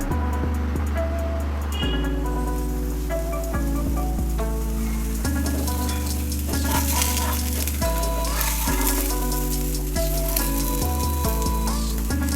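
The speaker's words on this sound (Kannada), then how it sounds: "ಈಗ ಬೇಯಿಸೋಕೆ ಇಡೋಣ ಹೈ ಫ್ಲೇಮಲ್ಲೇ ಬೇಯಿಸ್ಬೇಕು ಇದನ್ನು" Bottle gourd thalipeeth frying in oil on a pan over high flame, a steady loud sizzle with crackling and a few soft clinks throughout, no talking.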